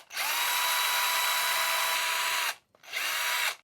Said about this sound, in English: so I can just slip this end into a hole I'm going to drill